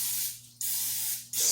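Olive oil spritzed from a spray bottle over salmon and cauliflower being cooked, two long misty hissing bursts with a short pause between and a third spray starting at the end, close and steady, no talking.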